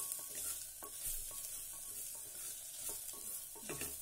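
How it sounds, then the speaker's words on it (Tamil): A spoon stirs Kashmiri chilli, coriander powder, garam masala and turmeric through a hot pan, with soft sizzling and repeated scraping strokes close by and no talking. "coriander powder, garam masala, turmeric powder எல்லாம் போட்டு ஒரு கிண்டிக்கணும்"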